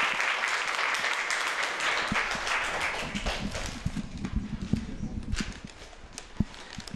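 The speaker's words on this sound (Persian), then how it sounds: "دوست خود تشویق کنید." A class of students applauding a classmate in a Persian-language mental health session, a loud burst of clapping that thins out into scattered, uneven claps and fades toward the end.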